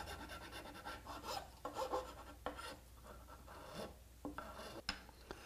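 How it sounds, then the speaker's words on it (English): A smooth-edged lawnmower file rasps in short back-and-forth strokes across the nut slot of an electric guitar, quiet and close with small pauses between passes. "I'm going to follow this up with my lawnmower file, and then I'll polish it with some sandpaper."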